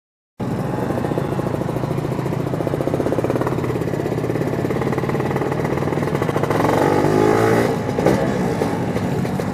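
An old, burnt-out Kawasaki motorcycle engine runs on a dyno, loud and close with a rough, steady drone, rising in a revving surge toward the end.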